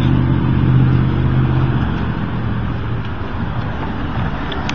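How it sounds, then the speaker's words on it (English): An electric trolley bus, the route 66 with a backup battery, rolls past in steady low whirring road noise that swells early and slowly eases, with no talking. "There's the 66 bus that runs on a backup battery that's on it that can run it for a little bit more than a mile"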